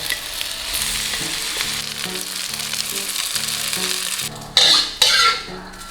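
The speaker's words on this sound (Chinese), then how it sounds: "下锅煎" A chili, cumin, flour and water mixture sizzles loudly in a hot pan, with steady frying hiss under a repeating rhythmic tone, then two sharp scraping clanks of a utensil at the end.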